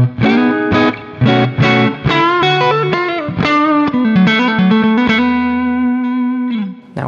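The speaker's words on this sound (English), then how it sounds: "show you what the compressor sounds like on and off" Electric guitar played through an amp simulator with a compressor engaged, heard alone with no talking: a run of sustained, effected notes and chords with a steady, even level, ending in a long held note that fades out.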